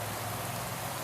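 Rain during a bike race in the Pro Cycling Manager video game, a brief steady wash of drops, moderately loud and unbroken, with no voices.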